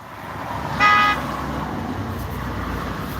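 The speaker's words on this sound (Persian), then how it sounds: "این ماشین من اوپل زفیره." An Opel Zafira car in traffic, a short clear honk of its horn over a steady hum of road noise, with no talk.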